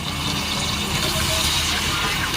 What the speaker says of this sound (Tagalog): lagyan na natin ng tubig, konti lang